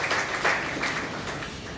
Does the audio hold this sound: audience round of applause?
yes